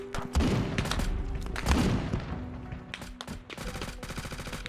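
Gunfire in the video game Squad: rapid bursts of automatic rifle fire and sharp shots crackling in quick succession, loud and close, with echoing tails and several separate volleys.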